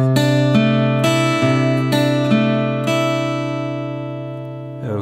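Guitar playing the next measure of a song, fingerpicked notes with crisp attacks over a ringing chord, close and unaccompanied, the last notes sustaining and fading before a final pluck.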